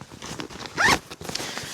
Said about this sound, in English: this has a top zipper, so I can store some goodies